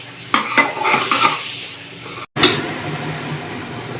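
Spice masala for a chicken curry is stirred and fried in a pan, a spoon clattering and scraping against the metal in quick irregular strokes over a steady sizzle, with a brief break partway through.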